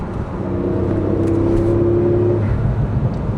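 A Porsche 911 Turbo S engine pulls hard at full throttle, a steady loud drone with a rising tone that holds for a few seconds before easing, heard close with no voices.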